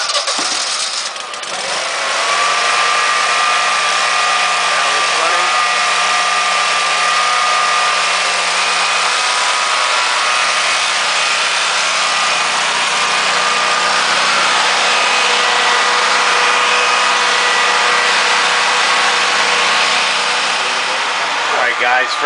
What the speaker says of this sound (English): All right, we're gonna fire up this generator.